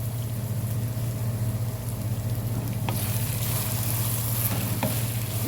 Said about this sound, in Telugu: 1 నిమిషం పాటు ఇది ఫ్రై చేసుకుందామండి.